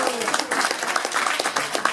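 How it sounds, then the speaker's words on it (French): Audience applause at a slam poetry event, a steady wash of clapping lasting under two seconds, with some voices mixed in. "s'il vous plaît, c'est vos applaudissements."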